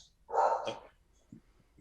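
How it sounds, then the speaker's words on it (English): One short, muffled dog bark sounds from nearby, followed by a couple of faint soft thumps. "My dog's barking like crazy, so he probably came to the door."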